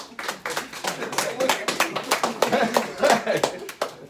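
Hand clapping from a live event audience, a fairly close, uneven patter of distinct claps lasting a few seconds, with some voices mixed in.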